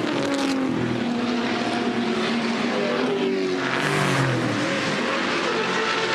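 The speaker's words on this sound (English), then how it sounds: "Paul um, Freestone did in that great-looking 68 Camaro just up in front there." American V8 muscle cars, including a 1968 Camaro, race past at Bathurst in a Touring Car Masters event, several engines roaring and howling together with rising and falling pitch as they pass, loud and continuous.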